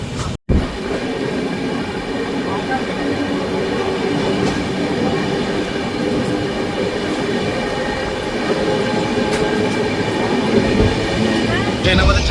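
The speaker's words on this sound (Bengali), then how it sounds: "ট্রেন আমাদের ছেড়ে দিল গুসকরা স্টেশন" The Shantiniketan Express pulls out of Guskara station with a steady, loud rolling rumble of wheels on rails and faint clicks, heard from on board and lasting throughout.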